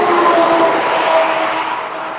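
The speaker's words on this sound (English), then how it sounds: "That's some loud traffic." Loud road traffic passes beside a small cemetery in Delaware, Ohio, a close, brief roaring whoosh of a vehicle that fades slightly as it goes by, with no talking.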